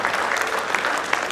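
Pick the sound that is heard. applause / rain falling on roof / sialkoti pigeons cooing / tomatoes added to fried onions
applause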